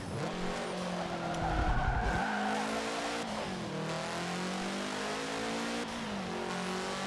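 A race car in Forza Motorsport 7 runs around a virtual track, its engine whining through gear changes while the tires skid and squeal, loud and continuous with no talk.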